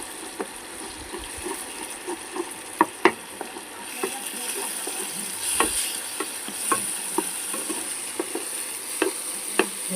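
An egg fries in a pan while a spatula stirs it, giving a steady soft sizzle broken by scattered scraping taps and clicks at close range, with no speech.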